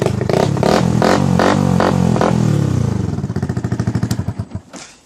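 A Yamaha YZF motorcycle fitted with an aftermarket exhaust revs hard several times in quick bursts, loud and close, then settles into a choppy, popping idle that fades out.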